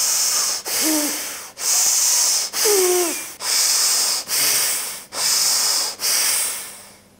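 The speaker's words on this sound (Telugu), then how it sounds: "అట్లాగే ఎడమ ముక్కు మూసేసి కుడి ముక్కు నుంచి శ్వాస తీసుకోవాలి." Rapid forceful nasal breaths in a yoga pranayama exercise, drawing in through the right nostril. About eight rhythmic hissing bursts roughly one per second, loud and close, with a faint voice murmuring in between.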